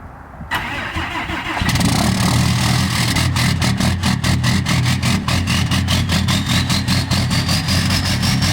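Cummins diesel truck, 12-valve, cold-starting: a brief starter crank, then the engine catches and settles into a loud, rattling diesel idle with a steady rhythmic clatter, close up and without talk.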